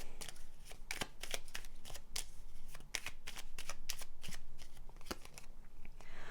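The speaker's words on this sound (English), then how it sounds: "let's take out some more cards for you" Tarot cards shuffled and drawn, a close series of crisp flicking riffles and snaps in quick irregular bursts, quiet and with no talk.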